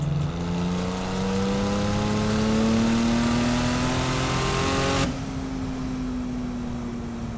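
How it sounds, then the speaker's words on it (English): A 1000 hp twin-turbo Porsche 911 GT2 flat six accelerates hard, its note climbing steadily in pitch for several seconds before an abrupt lift-off drops it to a quieter, steady drone. "And when you let off, you still get that nice flat six sound, you really do."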